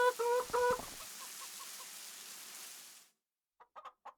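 Chickens in the farming game Farming Simulator 25 give a few loud clucks at feeding time. Softer clucking and a low hiss follow, then a brief pause and a cluster of faint clucks near the end.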